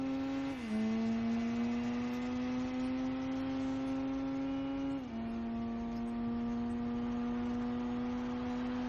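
A Mitsubishi Eclipse engine in the Gran Turismo 4 video game holds a steady, loud tone, rising slowly under throttle, then dropping at two gear shifts before climbing again.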